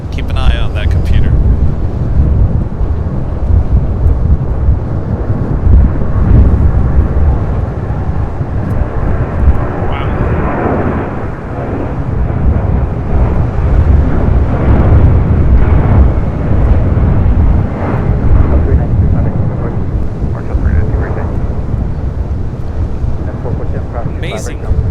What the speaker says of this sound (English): That was Delta Airlines 392 taking off to Washington National on a 757-200.